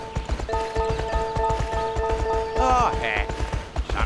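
Horse hooves cantering in the video game My Horse and Me: Riding for Gold, a steady rhythmic clip-clop under game music and chimes, with a short whinny near the end.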